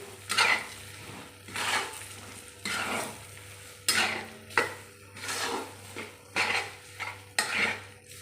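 Moong dal roasts in a pan as a spoon stirs it in distinct scraping sweeps, roughly eight rhythmic strokes over a faint sizzle, close up with no voices.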